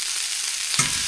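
Squid stir-frying in a hot pan with onion, a loud dense sizzle with a sharp burst partway through as more pieces hit the oil, close and continuous without talking.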